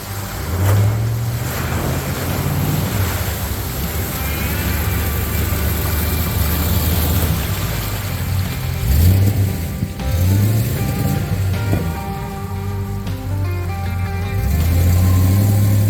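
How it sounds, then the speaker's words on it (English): Off-road vehicle pushing through a water crossing or mud hole on Florida public land, Eglin AFB, with a steady engine drone, water surging and sloshing around it, and low revving swells throughout, no voices. "First water crossing, first mud hole, whatever you want to call it, we came to. Went through it"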